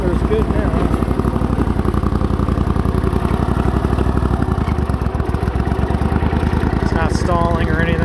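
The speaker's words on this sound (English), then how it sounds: "Firing on both cylinders good now." A 20hp Briggs & Stratton Vanguard twin-cylinder engine runs after a carburetor repair, a loud, steady close-up idle with an even rapid firing rhythm that holds throughout, with a brief high rattle near the end.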